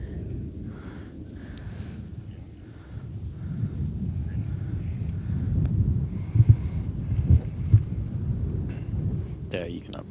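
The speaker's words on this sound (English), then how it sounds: "I'm sure you guys at home can hear the wind blowing into it. It's a strong gust." Strong gusty wind buffeting a microphone on a golf course during a men's amateur championship final round, low rumbling bursts that swell and thump irregularly beneath someone talking.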